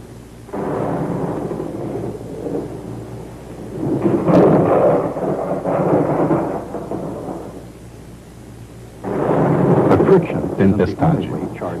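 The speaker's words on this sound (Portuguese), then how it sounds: "Tempestade." Rolling thunder from a thunderstorm, two long deep rumbles that swell and fade, with a sharper crackling peak near the end, loud and booming with no voices heard.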